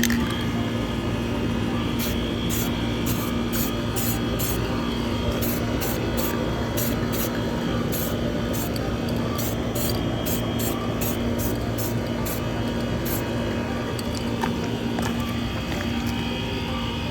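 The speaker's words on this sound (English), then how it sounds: "Do a little test spray first." A steady hiss of spray from an aerosol paint can coating a Volkswagen Golf R front upper grille runs throughout, with short bursts overlapping a continuous background hum.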